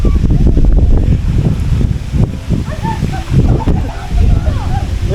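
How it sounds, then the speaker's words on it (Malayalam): Heavy wind buffets the microphone in loud, rumbling gusts while a person talks close by at Lake Bracciano, a volcanic lake near Rome, Italy, with faint birds chirping in the background. "നല്ല വിൻഡിയാണ് കേട്ടോ, നല്ല കാറ്റുമുണ്ട്, അടിപൊളി കാറ്റാണ്"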